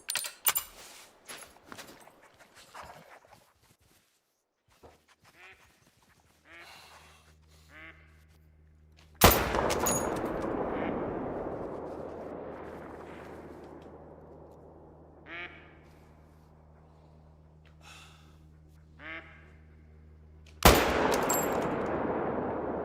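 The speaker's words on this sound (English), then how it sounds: "We're gonna shoot that one right there." Rifle shots ring out while hunting in theHunter: Call of the Wild on the Intisuyu Hunting Reserve map: two loud, sharp cracks about eleven seconds apart, each echoing away, with duck quacks and light clicks between.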